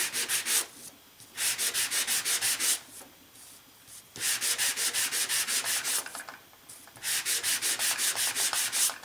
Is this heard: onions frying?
no